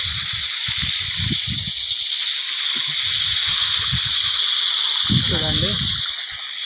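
Water gushes steadily through a tied-on pipe, a continuous hissing rush that holds loud throughout, with a few bursts of speech-like sound over it and a brief sloshing burble near the end.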